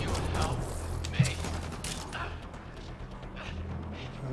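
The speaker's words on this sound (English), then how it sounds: "I'm just gonna open fire." Gunfire from a shotgun with concussive damage in the video game Mass Effect Andromeda, a dense burst of game combat noise with a sharp shot near the middle, steady and fairly loud throughout.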